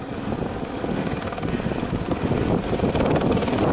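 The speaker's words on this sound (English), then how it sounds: "There's the police helicopter over the sand down that way." Police helicopter rotor chopping steadily overhead at Venice Beach, California, a continuous thrumming roar with no voices.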